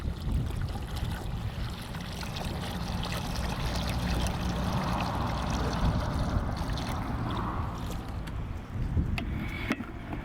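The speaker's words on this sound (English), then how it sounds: "fill the tank with water and refit the lid." Water running into a tank packed with dock leaves for plant feed, a continuous close pouring and trickling wash that holds steady, with a few knocks near the end.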